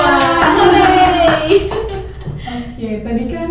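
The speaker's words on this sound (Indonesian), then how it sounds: "Tepuk tangan dulu untuk kita semua." A small school audience at an Indonesian student council podcast claps together for about two seconds, loud and close, tapering off as a voice begins talking over the fading applause.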